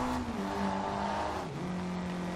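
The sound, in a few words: Mitsubishi Lancer Evo VI rally car engine revving in Forza Horizon 2 video game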